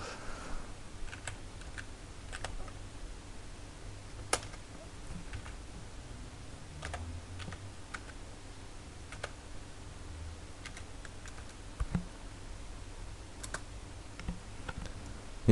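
Someone types a command on a computer keyboard at a Windows PC, with soft, steady key clicks at a moderate pace and occasional sharper taps, heard alone against a faint background hiss.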